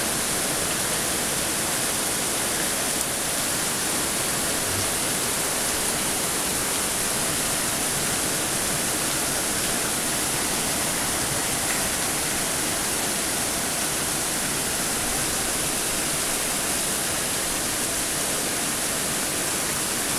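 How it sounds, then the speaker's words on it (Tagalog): Dense, steady roar of typhoon rain mixed with rushing floodwater in Nangka, Marikina, loud and unbroken throughout, no voices. "wala pa rin tigil ang ulan."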